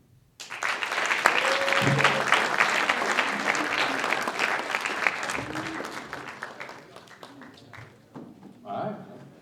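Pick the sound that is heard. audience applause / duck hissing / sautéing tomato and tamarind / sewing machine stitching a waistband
audience applause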